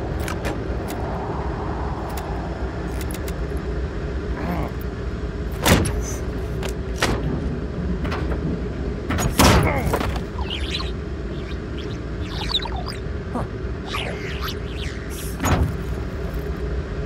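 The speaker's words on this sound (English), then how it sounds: "Please launch them by opening the exterior hatch." Hatch on the Javelin ship in Journey to the Savage Planet opening over a steady low engine-like hum, with a couple of sharp mechanical clunks and whirring bursts standing out from the drone.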